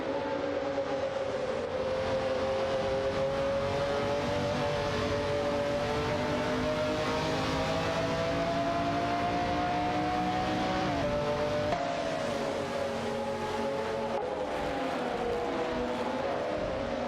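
Race car engines in an AI-driven racing event hum steadily for the whole stretch, sustained high tones shifting gradually in pitch as cars pass, fairly loud and continuous with no talk over them.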